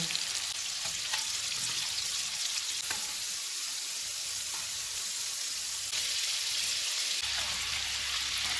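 Keema kababs cooking in yogurt on a tawa give off a steady, loud, close sizzle and spatter that runs unbroken throughout, with no talking.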